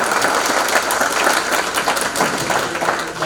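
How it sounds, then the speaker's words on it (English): Sustained audience applause at a township business summit, thick and even, with many hands clapping close and loud for the whole stretch. "So let's give them a round of applause."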